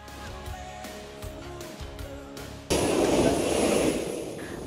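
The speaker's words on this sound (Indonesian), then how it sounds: "Pesawat Hercules pun mendarat di Lanut Adi Sucipto" Engines of a Hercules military transport aircraft landing at Adi Sucipto air base, a steady loud drone that suddenly swells into a louder, broader roar partway through.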